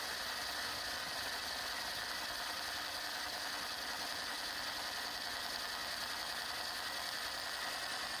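Vintage metal lathe turning a conical anvil horn, a steady mechanical whir with faint ratcheting, gear-like clatter running continuously at low level throughout, no voices.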